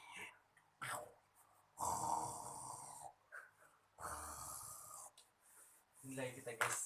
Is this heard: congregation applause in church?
no